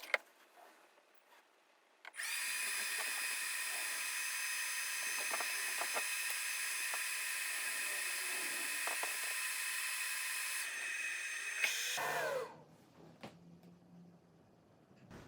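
An xTool F1 laser engraver runs on a coaster with a steady, loud whine and hum lasting about ten seconds, with faint clicks over it. It then spins down into quiet.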